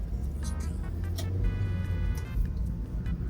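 Low, rumbling engine hum of a 2006 Mazda MX-5 NC1 with an induction kit, breathy intake whoosh, heard from inside the moving car at moderate volume, rising slightly as it revs.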